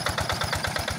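Yanmar TF 70 tractor engine running with a steady, rapid rhythmic rattling chug, close and continuous with no voices.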